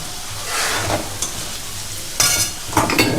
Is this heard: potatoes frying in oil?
yes